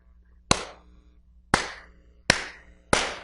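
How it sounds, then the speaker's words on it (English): Four sharp, loud hand claps spaced about a second apart, each ringing briefly in a quiet room during a hypnosis session, with a faint low hum underneath. "Never clap by their ears, by the way, but I clap there."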